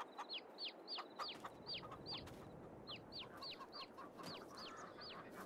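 Repeated short chicken clucks in a quick, steady series over a dense background of noise, with no voices, in the video game Farming Simulator 22.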